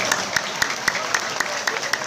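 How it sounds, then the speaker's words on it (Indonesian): A small audience claps at a religious talk on the ruling about smoking, a few sharp, fairly regular claps standing out over a moderate, steady patter. "Tepuk tangan dulu."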